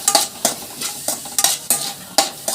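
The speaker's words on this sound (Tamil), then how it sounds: "மஷ்ரூமோடையே நம்ம வந்து காளானோட நல்லா நம்ம கிளறி விட்டுடலாம்." Mushrooms stirred in a frying pan, a spoon scraping in quick repeated strokes about every third of a second, crisp and close, with faint sizzling between strokes.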